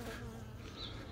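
Honey bees hum faintly at an urban beehive in spring, a steady low buzz with no pauses through the short stretch, and no voices.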